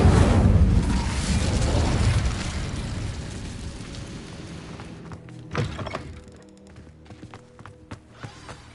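Incendio fire spell burning cobwebs in a video game, a loud whooshing burst of flame that decays over a few seconds, followed by a soft thump and faint crackles.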